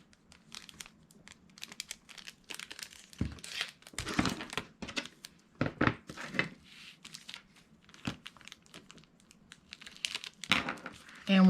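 A piece of tape is torn and handled for a paper craft embellishment book, heard as close bursts of rips, crinkles and tapping handling noises spread irregularly across the stretch.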